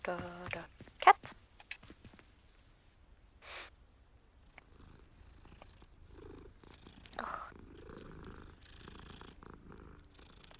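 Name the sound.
cat purring in video game Hogwarts Legacy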